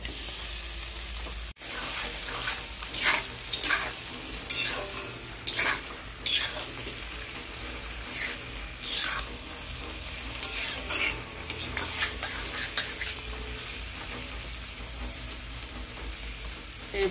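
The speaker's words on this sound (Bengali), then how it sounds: "এইভাবে কড়াইয়ের মাঝে ছড়িয়ে দিব আর উল্টি পাল্টি ভেজে দিব মচমচে করে" Small fresh puti fish fry crisp in a hot wok as they are spread out and turned, giving a steady close sizzle broken by repeated scraping and stirring strokes, with no talking.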